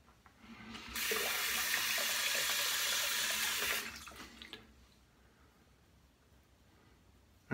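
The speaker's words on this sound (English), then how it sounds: "I'll go ahead and rinse off, be back for the alum" A bathroom tap runs hard for about three seconds during a rinse after a wet shave, a loud close gush of water into the sink, then it stops and quieter dripping and handling sounds follow.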